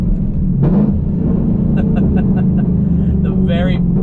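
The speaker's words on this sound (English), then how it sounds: "the very loud and bombastic exhaust." A 5th-generation Chevrolet Camaro SS with a loud modified exhaust gives a steady, deep rumble throughout, close and strong, while someone talks over it.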